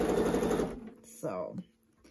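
A sewing machine stitches quilting around fabric rocks, a fast steady mechanical whir for under a second, then brief stops and a short second burst, with a voice talking alongside.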